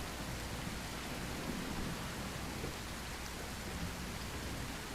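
Rain in the survival video game Primal Survival, a soft, even, continuous hiss with low rumbling underneath and no voices, steady from start to finish.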